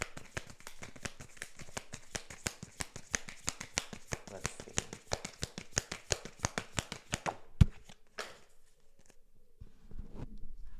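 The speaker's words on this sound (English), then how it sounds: "I'm gonna pull you guys more cards now" Tarot cards are shuffled in a rapid, steady riffle of crisp slaps for about seven seconds, then a sharper snap and a few softer handling sounds as cards are pulled and set down.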